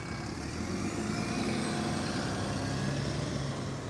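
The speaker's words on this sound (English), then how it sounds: "Got a bus going past." A bus passes on a Blackpool street, a steady broad engine and road rumble that holds loud and even throughout with no voices.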